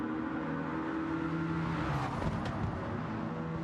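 Two McLaren race cars battle wheel to wheel in Gran Turismo 7 at the Red Bull Ring, their engines droning steadily and close, with a brief surge of revving partway through and no voices.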